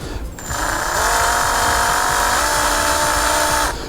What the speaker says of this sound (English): we put it into our power drill